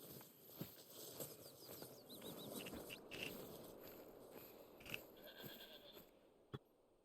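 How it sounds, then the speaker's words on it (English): A goat bleats faintly in the distance outdoors in New Zealand, a few short wavering calls over a low, rustling background, with occasional soft steps or taps nearby. "I heard a goat somewhere."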